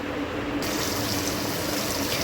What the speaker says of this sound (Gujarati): હવે આપણે પાણી એડ કરી દઈશું.